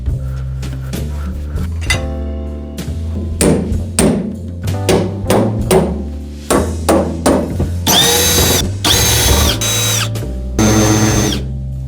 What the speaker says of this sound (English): So today we're gonna cut the floor out of this truck.